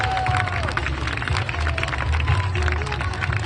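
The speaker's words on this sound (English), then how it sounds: "We get a big round of applause." An audience at an Ironman Chattanooga welcome ceremony cheers first-time Ironman athletes, with continuous clapping and crowd noise and a voice talking over the top.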